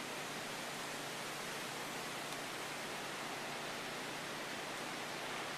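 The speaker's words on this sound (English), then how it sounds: "Wait till a good gust comes along and you'll see what happens with the water." Hurricane Sandy winds blowing over a river make a steady, loud, broadband roar of rushing air, continuous throughout with no distinct gust peaks and no voices.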